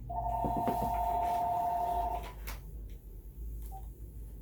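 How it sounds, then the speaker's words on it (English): A telephone rings close by in a grooming shop, a single electronic ring lasting about two seconds before cutting off, followed by quiet room tone and a brief faint tone. "And there goes the phone."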